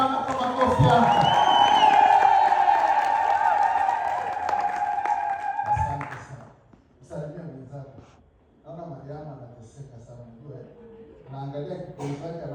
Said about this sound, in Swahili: Mshangilie tena Bwana kwa makofi yako.